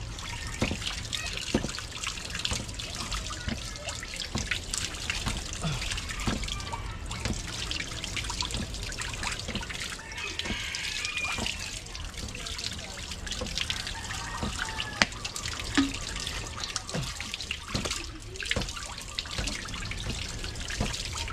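A tap runs steadily into a basin, a continuous splashing trickle of water that holds an even level for the whole stretch, with faint talk now and then in the background.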